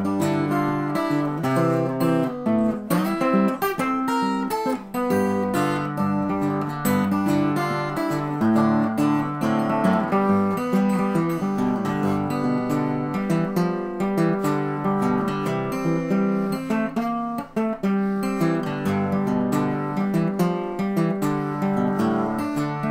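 Acoustic blues guitar playing Hesitation Blues, picked fingerstyle with just two fingers, giving a steady, close, moderately loud run of plucked notes and bass lines with no talking.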